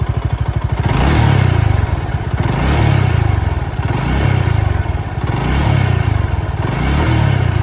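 A Suzuki Gixxer SF 250 motorcycle engine idles with a lumpy beat, then is revved loud and close in repeated swelling bursts that hold and fall back, with no talking.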